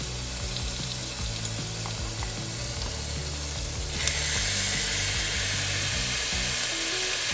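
Chicken and white onions frying in a pan with bitter gourd cooking, a loud constant sizzle with clattering, scraping stirring knocks, the hiss growing brighter and stronger midway.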